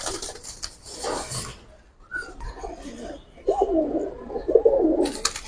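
Pigeons coo at a busy pigeon market where giribaj and colored breeds are traded, the soft calls rising in bursts amid crowd noise and chatter, loudest in the second half.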